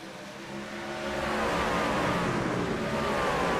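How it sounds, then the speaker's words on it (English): V8 race trucks in the iRacing game thunder past at Atlanta Motor Speedway heading into turns 1 and 2, a loud, continuous engine roar that swells and holds with rising pitch as the pack sweeps by, with no talking. "That's the sound of those V8 trucks come flying by as they drive deep here into"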